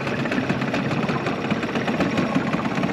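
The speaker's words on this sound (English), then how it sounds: "The engine's running perfect. So I'm just gonna show you guys the startup right now." A Yamaha 5 hp outboard motor runs with a steady, rapid mechanical putter and rattle, close and even throughout.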